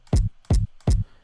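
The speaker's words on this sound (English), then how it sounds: "I just stole this kick from the original track." Three punchy electronic kick drum hits, a sample lifted from a track, land evenly spaced and close, each a short booming thump with a crisp click on top.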